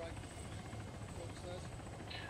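A friendly helicopter in the military game Arma 3 drones steadily at low level throughout, its rotor noise sitting faintly beneath the mix.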